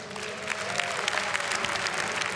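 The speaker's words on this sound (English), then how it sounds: "Round of applause," Crowd at a live esports gaming grand final claps steadily, a full, even burst of applause filling the hall for a couple of seconds.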